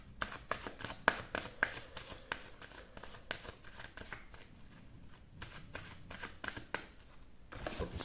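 Tarot cards being shuffled by hand during a reading: a steady run of crisp, riffling snaps and soft slides, close and moderately loud, continuing for several seconds with brief pauses and no talking.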